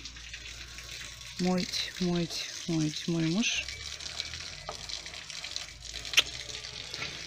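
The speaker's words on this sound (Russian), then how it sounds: "не ходите сюда, воду лью" Water being poured to wash a balcony at a village house in Greece, a soft continuous splashing and running hiss in the background while someone speaks briefly nearby.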